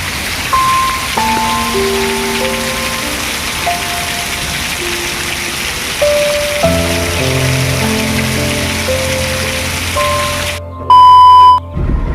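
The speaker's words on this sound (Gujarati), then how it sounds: "તમે જોઈ શકો છો કે આજે વરસાદ ઓવર પડે છે મોરબીમાં" Heavy rain pours over Morbi in a steady, loud wash that runs the whole time, with sustained tonal hums and a short bright beeping burst near the end; no one speaks.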